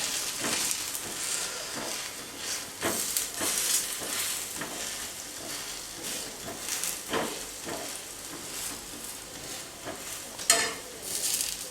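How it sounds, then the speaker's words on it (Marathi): Kolhapuri dhapate flatbread roasting on a hot pan, giving a steady soft sizzle with scraping and turning noises at irregular moments, close and fairly quiet with no voices. "धपाटे चांगले भाजून घ्या."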